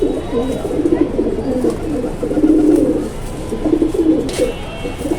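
Pigeons of a Bangladeshi breed coo in a low, throaty, rolling burble that repeats in close, loud phrases over soft background noise.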